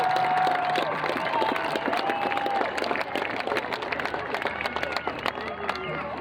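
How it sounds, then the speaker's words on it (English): Graduation crowd at Ponderosa High School applauding families, a dense, sustained wash of clapping and cheering throughout, with a few whistles and murmurs of chatter mixed in. "let's give them a big round of applause for all the support and love they've offered you in your high school journey"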